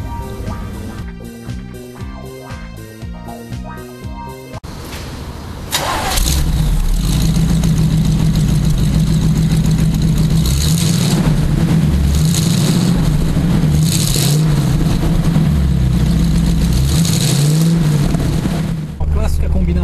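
A Chevrolet Camaro Type LT with a 350 V8 and automatic transmission starts after a stretch of music, then idles and revs loudly and close by with a deep rumble, continuing steadily for about fourteen seconds.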